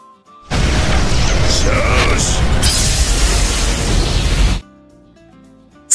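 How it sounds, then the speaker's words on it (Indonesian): An anime machine god fires a laser attack, a loud sustained blast with a crackling, roaring energy surge lasting several seconds before cutting off abruptly. "Maple bersiap mengeluarkan laser dewa mesinnya."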